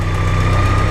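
A 1986 Porsche 944 non-turbo engine idles up close with a steady low rumble and slight rhythmic pulsing, running continuously without shutting off.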